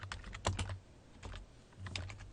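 Quick bursts of keystrokes on a computer keyboard, clustered clicks with short pauses between them, close and fairly quiet with no talking.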